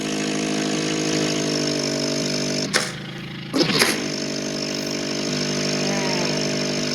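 A car engine works hard climbing uphill, a steady droning rev with strong harmonics, briefly interrupted twice by rushes of noise before settling back into the sustained labouring tone.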